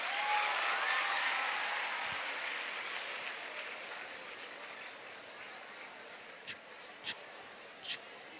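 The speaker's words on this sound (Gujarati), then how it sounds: "એકવાર બેબી માટે જોરદાર તાળી હોવી જોઈએ" An audience at a counselling programme applauds a child with dense, steady clapping that slowly thins and fades, followed by a few sharp isolated claps near the end.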